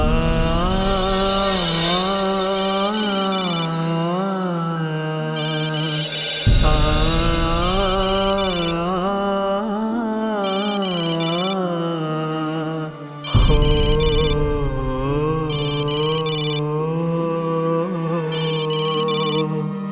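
A phone ringtone plays a repeating electronic melody that rings on unanswered for about twenty seconds, loud and close, pausing briefly between bursts with no voices.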